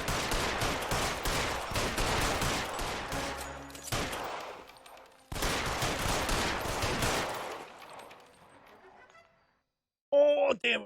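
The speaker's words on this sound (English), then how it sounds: "Sometimes I gotta shoot him." Two long, dense bursts of gunfire ring out loudly in the video game L.A. Noire, each trailing off, followed after a brief silence by a short spoken voice.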